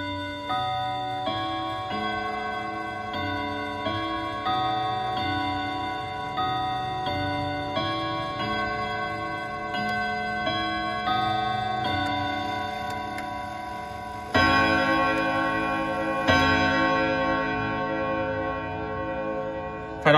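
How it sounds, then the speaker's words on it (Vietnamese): An antique FFR clock with a gold metal dial strikes the Westminster chime, clear bell tones ringing in a steady melodic sequence over a ticking movement, growing louder toward the end with no talk. "chiếc FR này có cái phần âm thanh tiếng chuông bản Westminster rất là tốt luôn"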